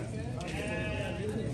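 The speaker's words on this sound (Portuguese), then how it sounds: "Tem muita ovelha hoje aqui" Sheep bleat at a livestock fair for sheep, goats and pigs in Senador Rui Palmeira, Alagoas, a few close, wavering cries over the bustle and chatter of the crowd.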